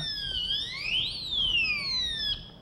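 An anti-theft gadget alarm sets off as a device is removed, a loud electronic siren sweeping up and down in pitch with sharp piercing tones, sounding alone and close.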